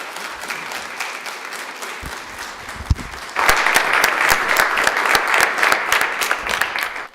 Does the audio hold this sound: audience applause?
yes